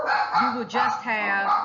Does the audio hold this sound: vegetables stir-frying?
no